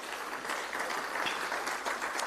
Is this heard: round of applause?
yes